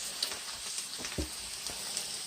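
Liver, onions and bell peppers saute in a pan with a soft, low sizzle, broken by a few light scrapes and taps of a utensil against the pan.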